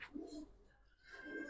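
Giribaz racer pigeons at a pigeon seller's stall coo in two soft, throaty bursts separated by a brief pause, with faint background chatter and a thin steady tone.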